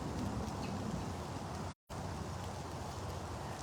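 Steady, dense rain falls outdoors at a big cat sanctuary, a continuous broadband hiss that holds evenly throughout, broken only by a brief dropout near the middle.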